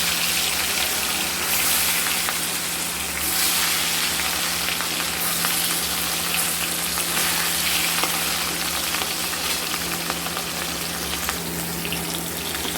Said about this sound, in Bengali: বাদ বাকি মাছগুলো আমরা ভেজে নেব।